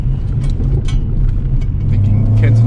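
Car engine droning steadily up close on the Yabitsu Touge mountain pass in Japan, a low rumbling hum that builds slightly toward the end, with faint higher ticks and clicks from the cabin.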